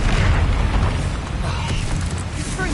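Heavy, booming blasts of the Bombarda explosion spell in the video game Hogwarts Legacy, loud and sustained with a dense low rumble throughout, amid a chaotic fight against trolls.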